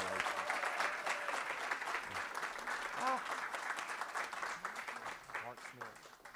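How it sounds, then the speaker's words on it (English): Warm applause at a board meeting after a swearing-in, a crowd clapping steadily at moderate distance while a few voices and cheers rise over it, gradually thinning toward the end. "Big round of applause for Miss Wanda McDowell."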